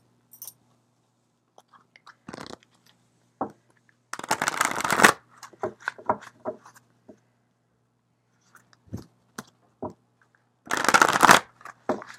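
Tarot cards shuffled in several bursts, with two long, loud riffling shuffles standing out among soft taps and card handling, close by and with no talk.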